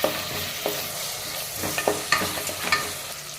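Cut tomato sautéing in a pan for coconut milk biryani, giving a soft steady sizzle broken by several sharp stirring scrapes and clinks from a spoon, with no talking.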